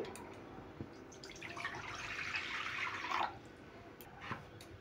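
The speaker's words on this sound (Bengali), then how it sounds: "জল দিয়ে দিচ্ছি।" Water is poured into a wok on a home stove, a soft, faint splashing trickle swelling for a couple of seconds before cutting off, with light taps around it.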